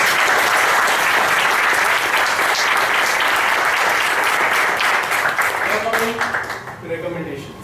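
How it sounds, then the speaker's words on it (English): A roomful of people at a Toastmasters meeting gives a loud, sustained round of applause that fades out in the last seconds as a speaker's voice begins. "Can we all have a big round of applause for him?"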